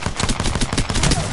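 Rapid gunfire from Apex Legends fills the moment, a dense burst of automatic shots rattling continuously and loudly at close range with no pauses.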